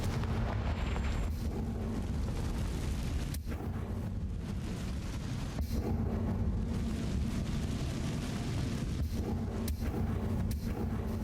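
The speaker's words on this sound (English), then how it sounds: "the spider web is burning up" In Hogwarts Legacy, a Confringo fire spell burns up a spider web with a continuous roaring rush, broken by a few sharp cracks and pops throughout.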